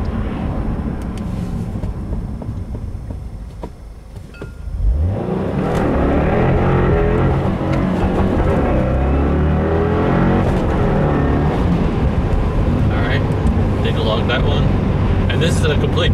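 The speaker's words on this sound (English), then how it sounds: "Power cut. I am not letting off the throttle." A 2015 Subaru WRX with an E30 tune accelerates hard at full throttle into the power cut. The engine is quiet at first, then rises into a loud, sustained roar that holds to the end, with a voice talking over it.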